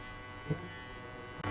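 An electric hair clipper buzzes steadily and faintly throughout a barbershop haircut, with a small bump in the drone just before the end.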